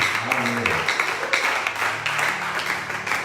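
A church congregation claps for the word of God during a sermon. Moderate applause from many hands rises and falls, with a low voice or faint music carrying underneath.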